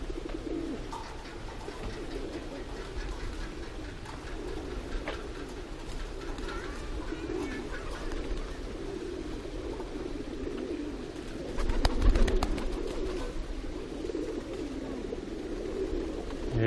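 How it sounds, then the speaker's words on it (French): Soft, low pigeon cooing repeats steadily against a constant outdoor background hum at a zoo in Chiang Mai, with a brief louder rumble partway through. "C'est le paradis des pigeons ici."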